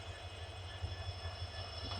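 A train stands near a station, its engine giving a steady low rumble and hum that holds for the whole stretch, with a faint continuous whine above and no talk.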